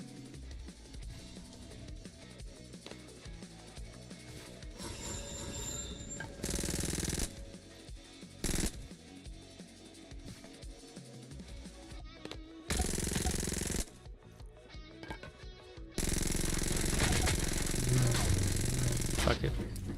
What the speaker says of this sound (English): Someone's back here with a chainsaw.